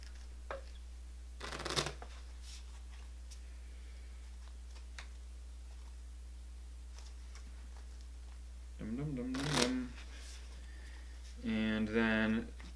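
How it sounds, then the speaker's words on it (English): A deck of cards is riffle-shuffled for an Arkham Horror card game, with brief rapid bursts near the start and again after a quiet pause, over a steady low hum with occasional faint ticks. "Shuffle my deck."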